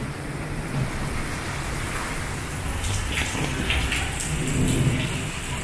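Heavy rain pounds down steadily during a spring storm in Spring Branch, Texas, a dense close hiss with low thunder rumbling through it and swelling toward the end, with no voices.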